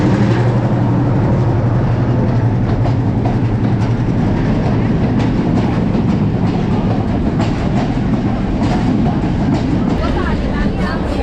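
A train runs along the tracks with a loud, continuous rumble and rhythmic clatter of wheels, close by, with voices faintly underneath.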